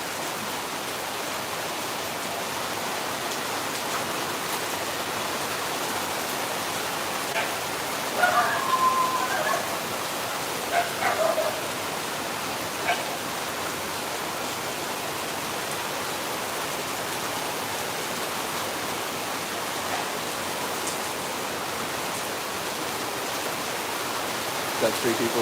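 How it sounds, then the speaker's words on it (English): Heavy rain from the first big rainstorm of the season in Phnom Penh pours steadily as a dense, even hiss, with a few louder splashes and drips standing out. "Thought I'd show you guys the first big rainstorm we're getting."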